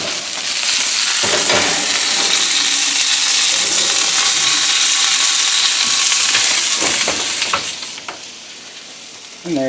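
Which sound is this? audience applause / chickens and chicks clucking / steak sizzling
steak sizzling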